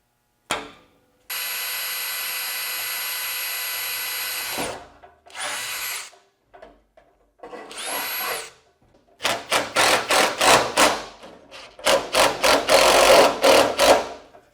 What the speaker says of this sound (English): Gonna have to drill through that as well.